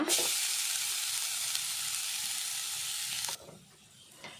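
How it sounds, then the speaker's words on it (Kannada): Grated coconut frying hard in a hot pan for chicken sukka, a steady loud hiss and crackle that runs unbroken for about three seconds, then drops suddenly to a much quieter sizzle. "ತುಲೆ ತಾರಾಯಿ ಫ್ರೈ ಮಲ್ತಿಗೆ ತೊಂಗ"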